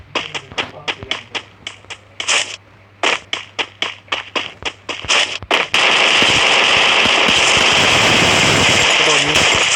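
Sharp gunshots from jump-shooting in the video game Free Fire sound in quick rhythmic bursts, a long string of separate cracks, followed by a loud continuous rush of noise.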